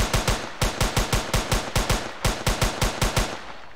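Rapid automatic gunfire from an Unreal Engine 4 shooter game test, loud steady bursts of evenly spaced shots with a brief break in the middle, no voices.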